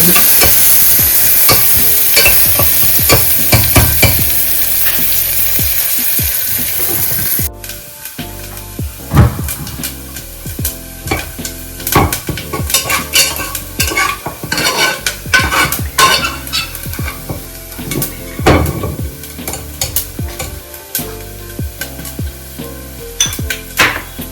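Rice flour roasting in a pan for Kannur kalathappam, stirred with a spoon: a soft dry sizzle with repeated scraping strokes, steady at first, then sharper rhythmic scrapes against the pan after a brief cut.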